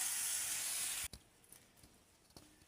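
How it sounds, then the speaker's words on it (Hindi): Water hits a hot pan of potato and chana curry in a loud sizzling hiss that cuts off abruptly after about a second, followed by faint scattered clatter and bubbling. "अब मैं डालत हमें पानी"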